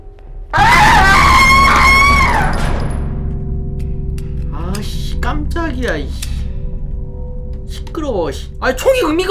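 An enemy lets out a long, loud, shrill scream in a bodycam-style first-person horror shooter game, followed by nearby voices talking and laughing.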